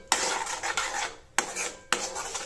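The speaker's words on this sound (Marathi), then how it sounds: "मग एकत्र करायचं हे मिश्र सर्व काही" Homemade paneer masala mixture stirred in a pan with a metal spoon, three quick scraping strokes against the pan, close and alone.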